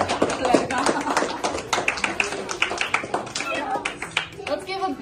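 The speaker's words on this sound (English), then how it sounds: "Let's give a big round of applause for our" Applause at a math circle awards ceremony, a scattered crowd clapping in uneven bursts over several seconds, with voices, including children, talking beneath it.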